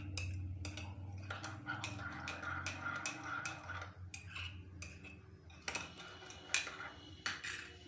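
A spoon stirs yeast and sugar into warm milk in a bowl, giving repeated sharp metallic clinks and scrapes against the sides, fairly close and irregular, with no talking.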